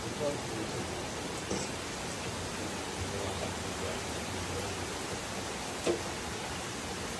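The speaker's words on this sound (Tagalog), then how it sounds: "Wow, ang lakas ng ulan." Continuous heavy rainfall hisses evenly throughout, a dense wash of noise with a faint low hum and one brief knock near the end.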